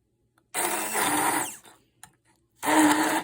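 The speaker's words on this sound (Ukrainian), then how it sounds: "Очищене від шкірки баклажан яблучко і часник перебиваю блендером до повної однорідності." A blender whirs loudly while pureeing peeled eggplant, apple and garlic, in two bursts, the first about a second long, then a short pause with a faint click before it starts again.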